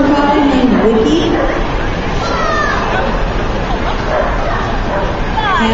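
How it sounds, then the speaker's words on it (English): Border collie barking and yipping repeatedly amid a crowd at a dog-handling event, close and loud bursts overlapping with background chatter. "This is a border collie named Wiki."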